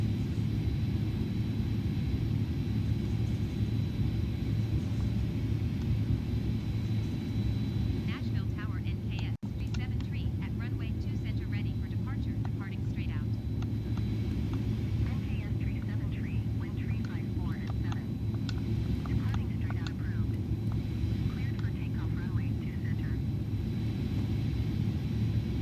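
An iniBuilds Airbus A310-300 in Microsoft Flight Simulator 2020 rolls for takeoff at TOGA thrust, its engines a loud, steady low roar held throughout, with fainter higher flutters and crackles rising over it midway.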